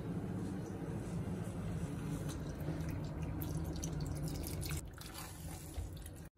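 Water is added to a simmering vegan fesenjoon stew, a steady close pouring and dripping flow into the pot that fades out near the end, with no talking.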